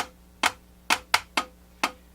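Drumstick strokes from a stick control exercise on alternating strokes: five sharp, dry taps in a loose, uneven pattern, close and fairly quiet over a faint hum, with no one speaking.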